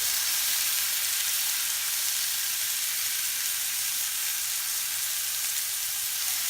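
Goose legs sear in a hot pan with a loud, steady, dense sizzle that holds evenly throughout without a break.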